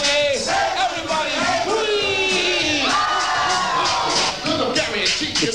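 A crowd at a 1984 Bronx breakdancing event late at night cheers, whoops and shouts continuously, loud and close, with excited voices yelling over one another throughout.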